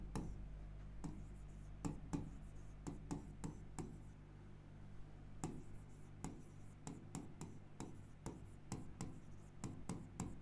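A pen scratches across paper while writing a letter: quiet, close strokes and taps in an irregular rhythm over faint room hum.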